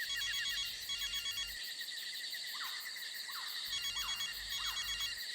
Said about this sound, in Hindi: सर, घंटी जा रही है सर।